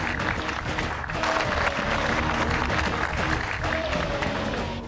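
A crowd claps in a hall during a televised show, dense sustained applause that holds steady and fairly loud throughout.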